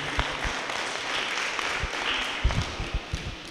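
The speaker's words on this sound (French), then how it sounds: "je vous demande d'applaudir très très fort M." An audience applauds at a school event, a steady wash of clapping at moderate volume with a few sharper individual claps standing out toward the end.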